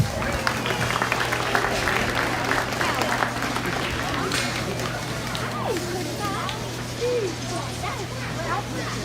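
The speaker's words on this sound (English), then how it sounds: "let's go ahead and give all these kids a nice round of applause" Crowd applause for kids at a 2023 hog show, steady clapping sustained throughout amid a busy background of chatter and children's voices in a large, echoing arena.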